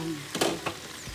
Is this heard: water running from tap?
no